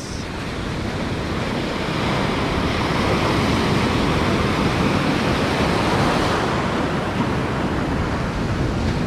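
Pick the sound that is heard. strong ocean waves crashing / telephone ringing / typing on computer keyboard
strong ocean waves crashing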